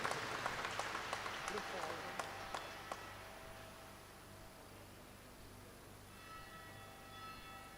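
Applause from a congregation at a basilica consecration and rededication ceremony in Thrissur, with sharp claps thinning out over the first three seconds before fading into a quiet room hum.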